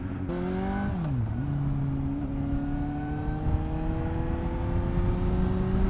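A 2012 Suzuki GSR750A inline-four motorcycle engine dips briefly, then climbs in a long steady pull, its rising whine and gritty drone loud and close over wind noise.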